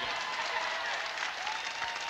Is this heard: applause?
yes